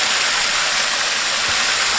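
Steady, loud rush of water pouring from a borrowed tap into a bucket, a continuous broadband gush with no pauses and no talking.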